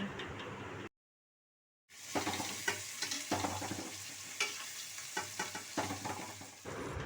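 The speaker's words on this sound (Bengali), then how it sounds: "এরপর আমি মাংসের গ্রেভির পেঁয়াজগুলো দিয়ে দেব" Onions frying in oil with bay leaf for a mutton biryani gravy, close crackling sizzle with frequent spatula scrapes and stirs, after a short gap of silence, no voices.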